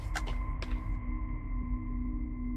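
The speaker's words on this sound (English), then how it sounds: "Truck making weird noise." A strange electronic whine from a truck in a video game, a steady tonal hum with a couple of short sharp pings near the start, quiet and unbroken.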